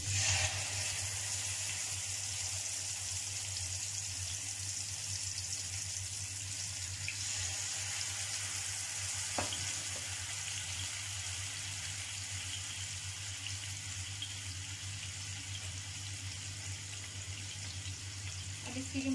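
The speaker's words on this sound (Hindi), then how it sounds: "ऑयल हो चुका है हमारा गर्म, अब हम इसमें अपना चिकन ऐड करते हैं" Chicken pieces for tandoori chicken sizzle steadily in hot oil, a continuous hissing fry that holds at an even level throughout with no talk over it.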